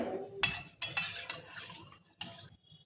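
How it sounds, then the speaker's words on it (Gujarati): A spoon stirs pani puri water mixed with black salt, lemon juice and pani puri masala in a bowl, making a few close clinking, swishing strokes with short pauses between them. "બધું જ આપણે હલાવીને મિક્સ કરી લઈશું।"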